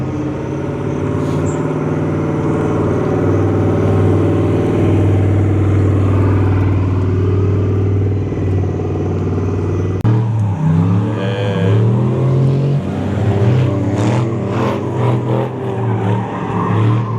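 Drift cars roar out onto the track at a drift event in Tarla, Philippines, with loud sustained engines revving and shifting and tires squealing, close and continuous throughout with no talking.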